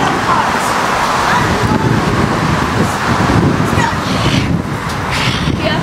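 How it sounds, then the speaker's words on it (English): Loud, rushing wind buffets the microphone in a steady roar, with low rumbling gusts throughout and no clear talk on top. "It's windy."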